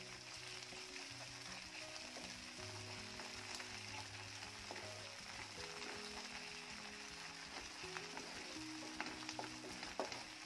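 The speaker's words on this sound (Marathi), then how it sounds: "पेस्ट देखील छान परतून घ्यायची आहे।" Ginger garlic paste sizzles steadily in a pan with cooked-down tomato, a soft continuous frying hiss with faint crackles and no talk.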